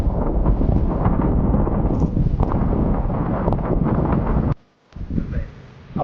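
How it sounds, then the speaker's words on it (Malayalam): Strong wind on a hilltop at Chepara buffets the microphone with a loud, continuous rumble, dropping out briefly near the end before gusting back. "അത്യാവശ്യം നല്ല കാറ്റുണ്ട്."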